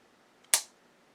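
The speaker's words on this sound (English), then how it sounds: "so let's try the trigger pull" Dry-fire trigger pull on an unloaded Remington stainless steel 1911 pistol in .45 ACP. A single sharp, close metallic snap of the hammer falls with a faint click just before it, then silence.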